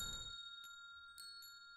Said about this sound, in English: Sound of a glass wind chime.